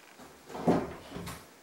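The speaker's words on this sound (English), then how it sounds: "Will the door shut?" A cupboard door swinging shut over a newly fitted washing machine in a French homestead renovation, one soft close with a muted knock, fairly quiet and alone.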